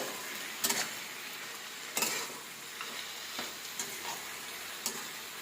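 Greens fry quietly in a pan, a soft steady sizzle broken by a few sharp scrapes of a stirring spoon at irregular intervals.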